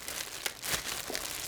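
Crinkly plastic packaging crackles and rustles as hands crumple it, a short close burst of dry crinkling with no speech.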